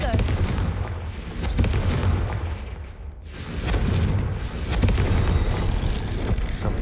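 Confringo blasting spells from the Hogwarts Legacy video game go off as dense, continuous booming explosions, loud and close, with a brief dip midway before the rumble swells again.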